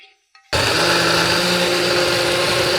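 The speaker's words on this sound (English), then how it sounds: "Get everything into the blender." A high-powered blender suddenly switches on and roars at full speed, a loud, steady high-pitched whir that continues without letup, blending foie gras, chicken liver, hot cream, shallot, garlic, brandy and gelatin.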